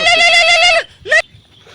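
A goat being led toward a riverbank gives a loud, close bleat lasting nearly a second, followed by a short second bleat, then quiet.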